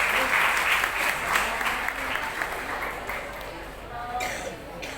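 An audience at a prize distribution ceremony claps for students and teachers; the applause is dense at first, then thins and fades as a voice and faint pings come through.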